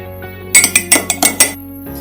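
Bullet coffee being mixed with butter gives a quick run of about seven sharp clinks and taps, like a spoon striking the side of a cup, close and loud, with a quiet stretch before and after.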